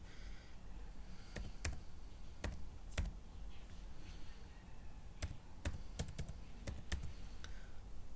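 Scattered, close-up key taps on a computer keyboard while a user ID is entered, sharp clicks arriving in short irregular bursts over a faint steady hiss, with no talking.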